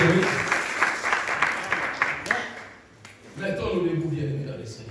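Church congregation applauding and cheering in praise, a dense rush of clapping with voices over it that fades into a dip, then talk resumes.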